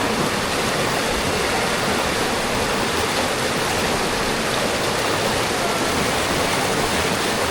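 Waterfall at a viewpoint in Chanthaburi, Thailand, splashing hard as a dense, steady roar of rushing water, loud and unbroken throughout, with no voices.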